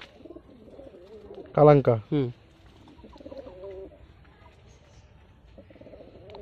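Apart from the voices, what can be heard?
white Madras pigeon cooing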